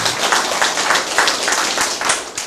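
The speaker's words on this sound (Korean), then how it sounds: "얼씨구 박수 한번 칩시오" A seated audience at a talk on mind study and family relationships claps together, a steady run of fairly loud, closely spaced hand claps.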